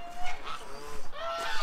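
Ducks in a muddy yard give a few close, nasal quacks and honks in quick bursts, loud and alone with no talking.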